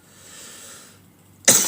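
Deliberate coughing during a group healing prayer session: a soft breathy exhale is followed, after a brief pause, by a single sharp, loud cough close by at the very end.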